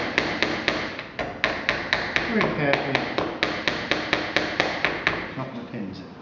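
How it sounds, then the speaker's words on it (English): Steady, evenly spaced hammer taps driving hinge pins into a wooden box, about three per second, crisp and close, with a voice speaking briefly underneath. "You need to make sure you're holding the hammer like that"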